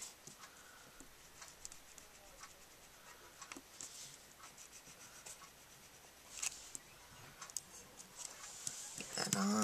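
Rub-on transfer being rubbed onto a handmade card with a small tool, giving faint, close scratchy scraping strokes in uneven bursts, with soft handling noises and a louder rustle near the end.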